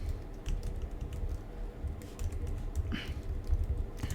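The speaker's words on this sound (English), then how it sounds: "I type it here," Quick, irregular clicks of typing on a computer keyboard, close and moderately loud over a low room hum.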